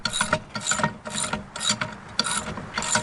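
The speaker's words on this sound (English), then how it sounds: "I'll use my Gerber multi-tool here that I always have on me." A Gerber multi-tool tightens a lock nut on a Caldwell Lead Sled Solo shooting rest, giving six evenly spaced bursts of close ratcheting, scraping metal clicks with short pauses between turns.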